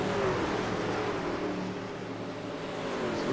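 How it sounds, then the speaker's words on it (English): NASCAR Truck Series race trucks drone steadily as a continuous engine roar with a slowly shifting pitch, heard from a distance with no talking. "I was just about to settle in to listen to these cars,"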